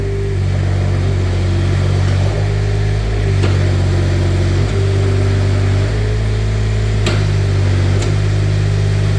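A Manitou TMM45 truck mounted 4-way forklift running through its side shift, a steady engine drone with hydraulic load changes stepping the pitch up and down, plus a few sharp clicks, loud and close.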